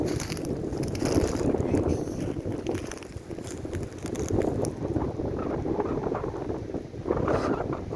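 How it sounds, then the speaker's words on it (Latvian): Strong wind off Burtnieki lake in Latvia buffets the microphone in steady, roaring gusts, with low rumbling turbulence throughout and no voices. "Šodien riebīgs vējš bija no Valmieras puses."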